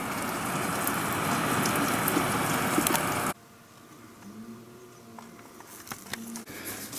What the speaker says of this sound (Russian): Вон, смотри. Град какой.